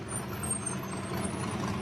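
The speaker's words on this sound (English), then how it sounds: "The motor, you hear that power plant" An off-road race truck engine at the San Felipe 250 in the Baja desert gives a steady, loud low rumble with no break.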